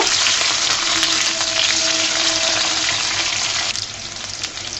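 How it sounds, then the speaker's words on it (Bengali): Potatoes and okra fry in oil in a pan while being stirred, giving a steady, loud, dense sizzle throughout with a few faint scraping sounds, the sizzle easing slightly near the end. "আলুগুলোকে লাল লাল করে ভেজে নিব।"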